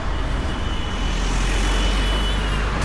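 A car driving along a road, a steady loud engine and road rumble heard close up from inside, continuous and unbroken with no voices.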